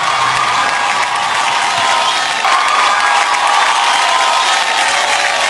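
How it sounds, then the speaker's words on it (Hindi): Loud, sustained applause from a large crowd at a film awards show, steady clapping throughout with scattered cheers mixed in. "जैकलिन के लिए जोरदार ताली हो जाए एक बार"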